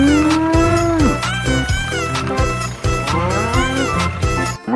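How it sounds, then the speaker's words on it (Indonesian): Black-and-white mother cow lowing in a long drawn-out moo, followed by a busy mix of other animal calls and music-like tones throughout. "Yang ini ternyata indukan sapi,"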